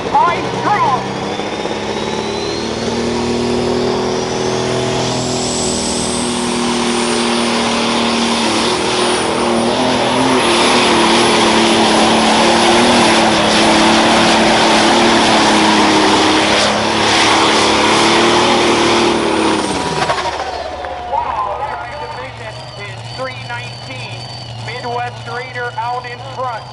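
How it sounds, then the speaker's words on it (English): A John Deere 7520 pulling tractor with a Cyclone Pro Stock engine roars at full throttle during a truck and tractor pull, a loud sustained climbing howl that cuts off abruptly near the end, leaving a quieter idle and crowd murmur. "This is one tough tractor running a Cyclone Machine Pro Stock engine under the hood."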